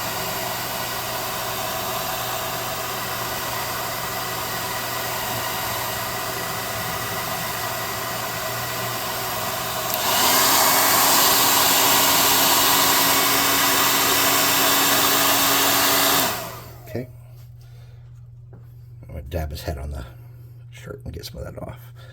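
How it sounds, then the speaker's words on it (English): A handheld air gun blows a steady, loud hiss of air across a freshly painted tabletop miniature, running for several seconds before cutting off abruptly, followed by quieter handling clatter. "I'm going to use the air gun and kind of blow away any excess that I don't want to run down onto my base."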